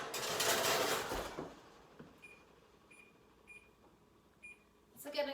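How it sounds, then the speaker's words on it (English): Oven timer beeping as it is set in a kitchen while holiday recipes are prepared, four short, sharp, evenly spaced electronic beeps after a burst of louder noise, fairly near and clear against a quiet background. "I've set my timer so I make sure I don't lose track of time"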